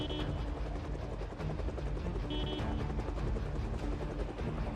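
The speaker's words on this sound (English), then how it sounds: "The helicopter, I think, has the largest radius of basically noise of anything." A helicopter in the zombie survival game Project Zomboid drones overhead with a steady, loud, thumping rotor wash and engine rumble that stays constant and fills the whole stretch.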